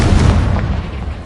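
An explosive Confringo spell going off in Hogwarts Legacy on PlayStation 4 Pro, a single heavy, booming blast that rumbles low and fades over about a second, loud and close with no voices.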